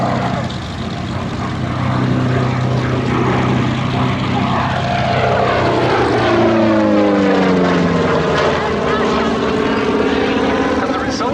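A Republic P-47D Thunderbolt, a heavy seven-ton fighter, drones with a loud, steady piston-engine and propeller roar that sweeps in pitch as it passes close by, with no talking.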